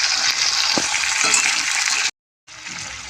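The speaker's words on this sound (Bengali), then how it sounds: "একটু সামান্য একটু নেড়ে নেবো এটা আমি।" Eggplant and tomato sizzle and hiss in a hot frying pan while being stirred, with a few soft scraping knocks, a brief cut to silence, then the frying resumes.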